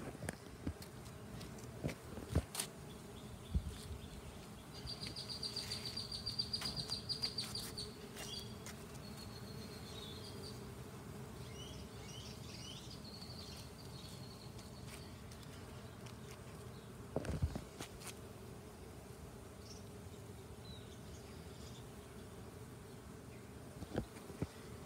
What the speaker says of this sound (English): I've never actually seen really that many ground nesting bees.